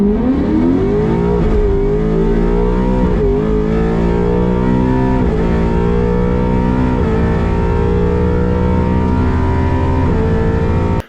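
A Ford Shelby GT500 races around a track, its engine roaring loud and close throughout, rising through revs and dropping briefly at several gear changes.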